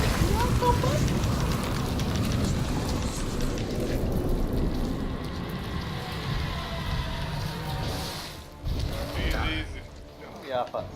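Steady rain hiss in The Witcher 3: Blood and Wine, a dense broadband wash running throughout the clip with low rumbling game sounds beneath it and people talking over it.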